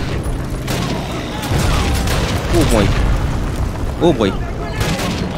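Gunfire and booming blasts rattle through a Call of Duty battle, dense and loud with rapid bursts and echoing impacts, while someone talks over the action.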